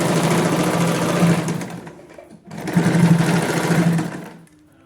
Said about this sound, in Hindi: अब हम ये सिलाई पूरी नीचे तक ले जाएंगे इस तरह से।